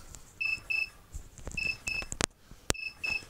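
Repeated electronic beeping from a 2.4 GHz-converted radio control transmitter alarm, short paired tones recurring in a steady rhythm, with a few clicks and handling knocks between them.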